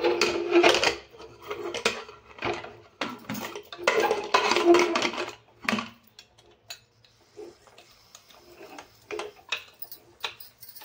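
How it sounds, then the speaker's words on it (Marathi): Metal clatter and clinking as a pressure cooker lid is fitted on over dal with turmeric, a burst of knocks and scrapes followed by scattered quieter taps. "कुकरचं टोपण लावून"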